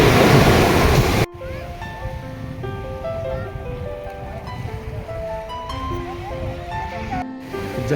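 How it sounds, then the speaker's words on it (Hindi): Sea waves at the shore near Somnath temple in Gujarat break in a loud rush of surf and wind noise, then give way to a quieter, steady wash of water. A voice speaks over it. "ये देखिए क्या लहरें हैं, विकट लहरें हैं इधर समुद्र की"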